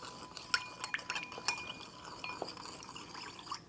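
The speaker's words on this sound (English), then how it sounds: "let's mix it very well" Kabob barg filet meat being mixed by hand with salt and chili pepper in a bowl, giving soft, faint squelching and occasional light clinks of utensils against the dish, with no talking.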